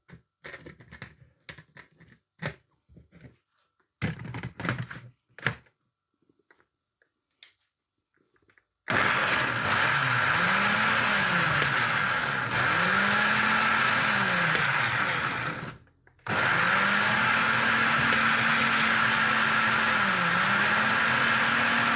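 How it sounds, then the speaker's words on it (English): An electric blender whirs loudly and steadily as it blends ingredients for tomato sauce, its motor pitch wavering. It cuts out briefly and restarts, after a stretch of scattered light clicks and kitchen knocks. "Okay, I'm going to blend it."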